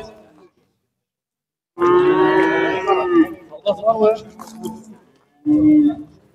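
Cattle and calves moo loudly and close by at a livestock market in Aksukent, several long lowing calls separated by pauses, with other animal grunts and market bustle between them.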